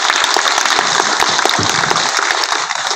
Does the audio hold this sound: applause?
yes